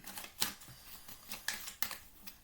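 Deck of Petit Lenormand cards being cut, giving soft, close card snaps and slides in a quiet, irregular series of short clicks, with no voices.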